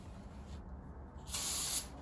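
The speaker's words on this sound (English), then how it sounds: "clean the bottom surface of the head with the brake parts cleaner as well" Brake parts cleaner sprayed in one short, sharp hissing burst onto the bottom surface of a 1JZ-GTE engine cylinder head, after a moment of quiet.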